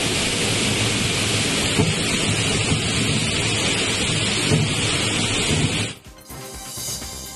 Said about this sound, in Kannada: ಕಾಫಿನಾಡು ಚಿಕ್ಕಮಗಳೂರು ಜಿಲ್ಲೆಯಲ್ಲಿ ಅಬ್ಬರದ ಮಳೆಯಾಗಿದೆ